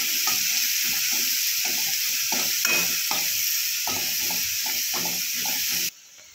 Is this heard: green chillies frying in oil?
yes